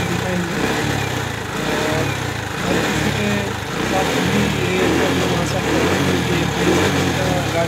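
A motorcycle engine runs rough and uneven close by, its throttle blipping and the idle sagging unsteadily throughout.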